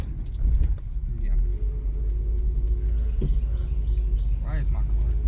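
Car driving over speed bumps, a loud low rumble of the moving vehicle with a jolt or two and faint rattles. People talk quietly in the cabin over the engine noise.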